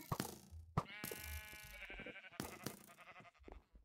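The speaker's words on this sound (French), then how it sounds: "On a reçu un deuxième mouton soigneur." Cartoonish sheep bleat repeatedly in the Sheep Wars video game, wavering baas overlapping with game effects and impacts, fairly loud and busy throughout with no talk.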